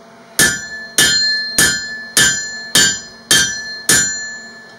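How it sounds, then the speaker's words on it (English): Seven steady ringing strikes as a blacksmith at a forge hammers steel with the flat face of a rounding hammer, each blow sharp and close with a bright metallic ring that decays before the next. "Flip over to the flat side of the hammer and clean it up."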